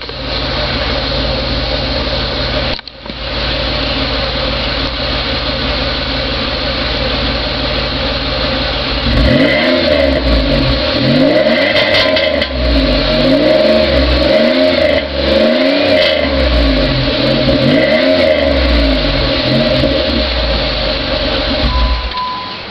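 A Chevrolet Monte Carlo Z34 engine idles with a deep rumble, then revs repeatedly through loud mufflers, the pitch rising and falling in several throaty surges.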